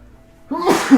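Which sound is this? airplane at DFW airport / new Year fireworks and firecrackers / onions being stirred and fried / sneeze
sneeze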